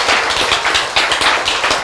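Audience applause during a sermon, close and loud rapid clapping from a group of hands, a dense irregular patter of sharp slaps sustained throughout without voices.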